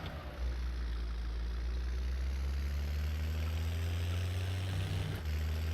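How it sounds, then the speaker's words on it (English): A farming video game vehicle engine hums low and steady in gearbox mode, its note stepping up through a gear change and settling again near the end, with no talk. "It's just the sound of the engine working, and then changing note as you change ratio or gear."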